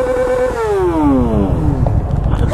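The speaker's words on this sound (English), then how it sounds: "I want to hear your bike rev it a little bit." A motorcycle engine revs hard close by, pitch falling in a long smooth glide as the throttle drops off, loud and alone over road noise.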